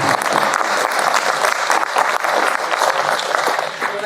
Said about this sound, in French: Avant que vous puissiez vous applaudir.